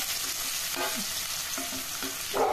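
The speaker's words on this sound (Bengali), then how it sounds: "পেঁয়াজ কুচিটা দিয়ে এবার ফ্লেমটাকে হাইতে করে পেঁয়াজটাকে বেশ একটু ভেজে নেব।" Chopped onion sizzles in hot oil with ajwain and asafoetida over a high flame, a steady close frying hiss with soft stirring scrapes throughout.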